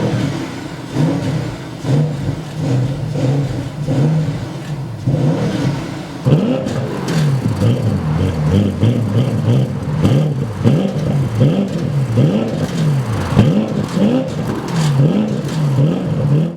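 A Porsche Panamera Turbo S E-Hybrid engine in sport plus mode revs loudly and repeatedly, the pitch swooping up and down in rhythmic throttle blips over a steady idle rumble, close and with no talking.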